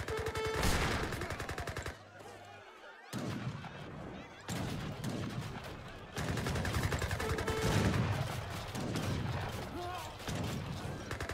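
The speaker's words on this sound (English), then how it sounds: "the Gatling guns are doing a lot of work" Rapid Gatling gun fire rattles in a strategy video game battle, with dense repeated bursts mixed with other shots and cannon booms, continuous over the whole stretch under a busy wartime soundscape.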